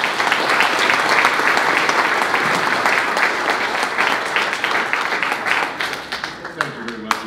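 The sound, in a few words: audience applause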